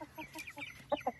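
Hens cluck near a nesting box where a rooster is tidying the nest, giving a quick run of close, moderately loud clucks with a sharper pair at the end.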